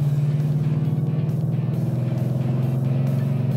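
Steady, loud car engine drone with a pulsing rhythm, holding a low even pitch as the car drives on the Calabogie Motorsports race track, heard close and alone.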